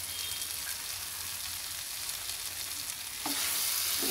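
A cauliflower and pea curry with spring onion sizzles in a pan while being stirred, a steady hiss of frying close by, with a brief scrape of the spoon near the end.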